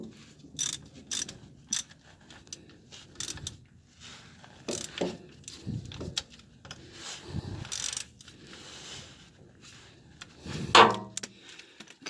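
Ratchet wrench tightening the pinion nut on a 2004 Nissan Armada during front pinion seal replacement, heard as bursts of close mechanical clicking and metallic clanks spread across the clip, with a sharp clank near the end.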